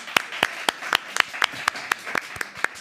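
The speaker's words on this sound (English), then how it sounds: "Let's give another round of applause to all 4 honorees." A small gathering of people clapping for four honorees, individual claps landing in a loose, fairly regular rhythm over a thin bed of scattered applause, close and moderately loud.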